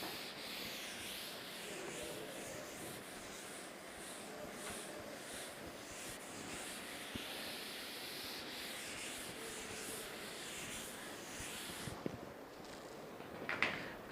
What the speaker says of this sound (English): I will just rub the board.